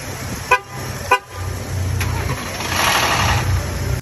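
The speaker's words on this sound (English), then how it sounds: "This is what happens when they make the rattle on startup." Engine cranking and starting on a Ford 3.5 EcoBoost V6 with a startup rattle fault: two sharp clattery bursts, then a steady engine drone that rises into a harsher, noisier rattle toward the end, heard close with no talk.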